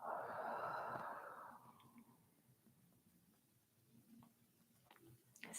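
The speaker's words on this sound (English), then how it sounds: "Exhale, let it go." A long, breathy exhale during a yoga session, loud and close for about two seconds, then fading into quiet room tone with a few faint soft sounds.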